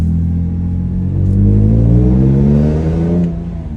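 BMW M3 with an abnormal gearbox noise: a steady mid-low drivetrain whine and engine drone that rises in pitch as the car accelerates, then eases off near the end, with no talking.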